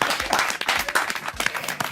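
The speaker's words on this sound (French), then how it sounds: "Applaudissements pour papa." A studio audience at a radio show breaks into dense, lively applause, many hands clapping quickly and loudly up close with a crowd murmur underneath.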